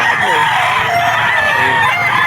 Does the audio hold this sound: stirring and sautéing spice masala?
no